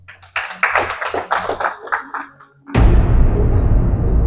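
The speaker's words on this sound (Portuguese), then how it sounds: "Aplausos e, por favor, vamos ver a atuação do nosso orador, Custódio Singue." A small audience claps for a speaker at a university Portuguese-language session, with uneven, scattered hand claps that fade out, followed by a sudden loud burst of broadband noise.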